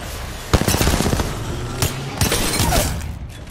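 Rapid bursts of automatic gunfire from an Apex Legends match, with sharp close shots and echoing cracks running nearly continuously throughout.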